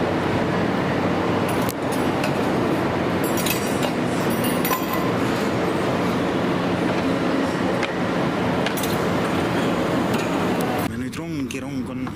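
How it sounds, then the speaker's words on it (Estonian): A maglev train pulls into a station in Shanghai with a loud, sustained rumbling roar and scattered clinks. Voices are heard under it, and a whining tonal sweep rises near the end. "Meie maaglev rong siis tuleb."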